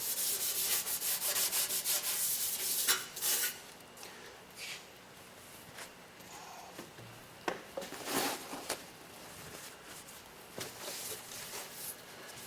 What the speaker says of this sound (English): What I'm doing is helping it along by scaling some of the rust and exposing the metal